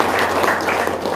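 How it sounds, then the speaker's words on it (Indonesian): A brief burst of audience clapping at a business seminar in Indonesia, a dense, blurred wash of hands that is fairly loud and close, with no clear speech over it. "Tepuk tangan dong"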